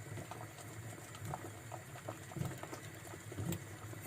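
A pot of water with beetroot, carrots and potatoes boils at a soft, continuous bubbling patter, faint and steady, with no talking.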